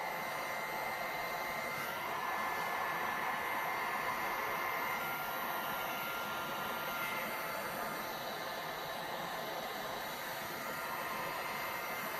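A heat gun blows over a resin flower bloom, a steady close hiss of rushing air that holds at a constant level throughout.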